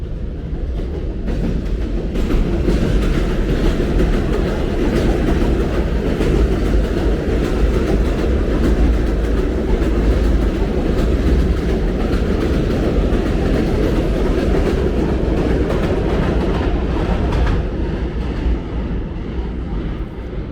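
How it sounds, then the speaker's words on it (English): Trains pass on elevated tracks above McDonald Avenue in Brooklyn, a loud continuous rumbling roar with rattling metallic clatter that holds steady for the whole stretch and swells slightly at the start. "And yes, you will hear trains down here."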